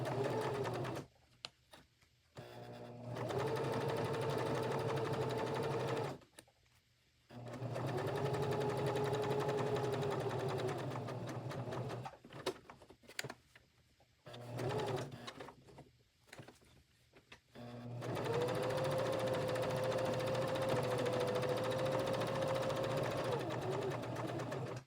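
A sewing machine stitching a US flag appliqué hums steadily in long runs, stopping and starting several times with a faint tonal whine, and a voice speaks softly at points.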